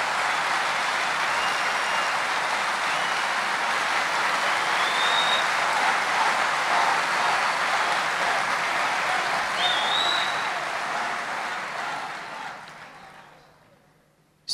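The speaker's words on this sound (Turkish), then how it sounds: "Ve hep beraber alkışlar mıyız Sayın Başkanımıza?" An audience at a political rally, the 23 Haziran Demokrasi Şenliği, breaks into sustained dense applause that holds strong for about ten seconds, then fades away to near silence.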